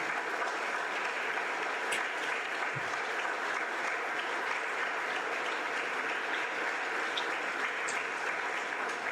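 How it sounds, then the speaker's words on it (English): Steady, dense audience applause at a Scouting awards ceremony honoring standing Eagle Scouts, a large crowd clapping continuously at even loudness with no talk. "give them a big round of applause"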